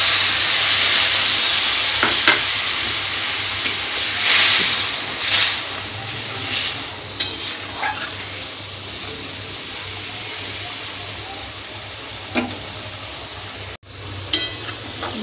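Fish curry boiling in a pan after water is added, a steady bubbling simmer with hiss, occasional soft pops and light clinks, continuous and close without talk.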